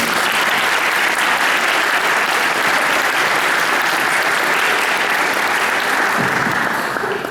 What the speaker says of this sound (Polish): Te brawa dla Pani Anny.